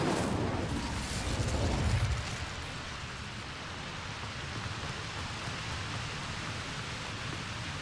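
A fire spell cast with the Incendio charm in Hogwarts Legacy bursts out as a loud, broad roaring whoosh for about two seconds, then fades to a steady crackling, noisy wash.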